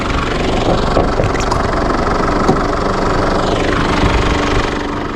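An Isuzu D-Max Gold Series pickup's 2.5-litre common-rail diesel engine idles close by with a steady, loud, knocking rumble that continues throughout.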